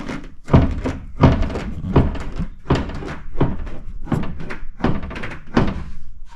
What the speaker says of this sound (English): when you open the door and I lift up on it